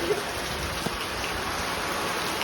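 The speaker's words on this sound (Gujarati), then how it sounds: "બહુ વરસાદ આવે છે" Heavy rain falls near a house in a flooded area, a steady, dense hiss of downpour filling the background with no voices.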